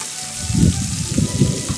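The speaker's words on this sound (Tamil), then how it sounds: "சோம்பு நல்லா பொரிஞ்சதும் நம்ம எல்லா வெஜிடபிள்ஸையும் போட்டு நல்லா வதக்கிக்கலாம்." Beans, carrot and potato sauté with fennel seeds in oil for a quick kurma, a soft close sizzle with low stirring thumps and scraping across the short span.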